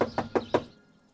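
Four quick, evenly spaced knocks on a door, close and sharp, followed by a fading silence.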